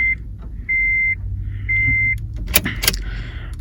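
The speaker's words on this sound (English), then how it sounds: "Turn on ignition." A car's ignition is switched on: three long, steady electronic tones sound one after another over a low hum, followed by a couple of sharp clicks.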